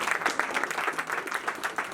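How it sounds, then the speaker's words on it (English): Applause for artists at a Black History Month celebration in an African American museum, quick, close clapping from a small crowd in a steady rhythm over a couple of seconds. "Let's give it up for the artists"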